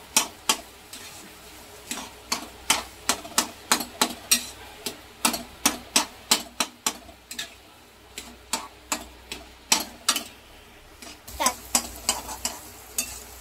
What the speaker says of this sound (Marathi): हे सर्व मिश्रण एकत्र करून घ्यायचं आहे, एकजीव करायचं आहे आपल्याला आणि छान असं परतून आपल्याला घ्यायचं आहे